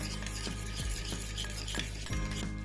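Spoon stirring oil with salt and chutney in a bowl, prepared to serve with Kathiyawadi khatiya dhokla; steady close scraping and clinking strokes, with a faint sizzle-like hiss running underneath throughout.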